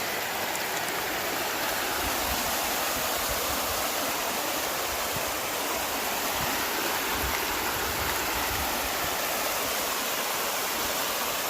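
A waterfall pours over a vein of oxidized vuggy quartz, making a steady, dense rushing roar that stays loud and unbroken throughout, with no speech.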